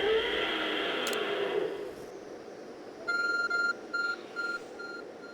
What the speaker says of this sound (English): Our phone is beeping.